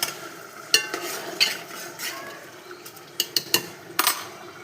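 A spoon stirs chili and coriander powder into a prawn tomato curry, soft wet scraping with light sizzling and several sharp clinks against the pan, close up with no talking.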